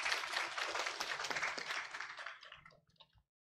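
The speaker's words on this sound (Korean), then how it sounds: "우리 김현주 목사님 나오실 때 우리 박수로 환영했으면 좋겠습니다" A church congregation applauding to welcome a pastor at a Korean-language Sunday service, a dense sustained wash of many hands clapping that fades out near the end.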